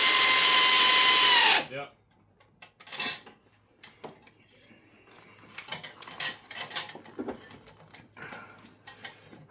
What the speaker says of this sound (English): that's the ratchet that does that one.